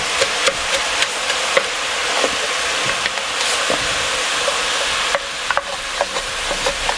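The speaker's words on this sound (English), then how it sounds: "It always steams up. And I usually scrape the bottom of the pan to get all the brown bits up." Red wine sizzles and steams in a beef stew pan while a utensil repeatedly scrapes the bottom, giving a constant hiss broken by scattered scraping clicks, close and without talk.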